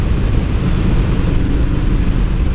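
A Honda Shadow 750cc motorcycle engine pulls smoothly under throttle, a steady low rumble mixed with wind buffeting, continuous and close with no break.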